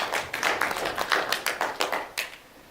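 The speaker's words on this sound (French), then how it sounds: "Et on peut les applaudir aussi, Brigitte et Marie-Hélène." Applause from an audience at an association general assembly, a short burst of scattered hand claps that thins out and fades over a few seconds.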